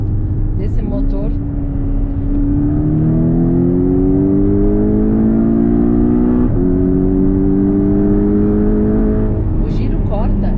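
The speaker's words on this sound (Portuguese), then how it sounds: "um pouquinho mais de pé no fundo, só para vocês ouvirem o ronco desse motor." A Porsche 718 Cayman T engine revs hard under acceleration, its loud droning roar climbing steadily in pitch, dropping briefly at a gear change, then climbing again toward the 7,200 RPM limit.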